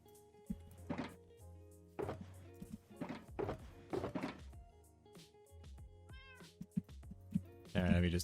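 A Minecraft cat meows several times, the short calls coming in clusters with soft game thunks and footsteps, all under steady talking from a player.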